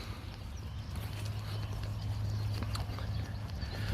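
A small mob of cattle moves along on a farm, hooves shuffling and thudding on the ground in a steady, close rumble with faint scattered knocks, no talking.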